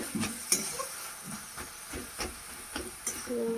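Bottle gourd and prawn curry sautéing in a pan, with a quiet steady hiss of steam and sizzle under irregular soft stirring taps and scrapes, close and fairly faint.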